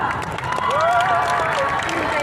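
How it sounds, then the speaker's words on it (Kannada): A packed Jayanagar crowd at a Kannada stage event claps and cheers together, with raised voices and whoops riding over a steady, loud bed of applause. "ಎಲ್ಲರೂ ಜೋರಾಗಿ ಸೌಂಡ್ ಮಾಡಿ ಒಂದ್ಸಲ"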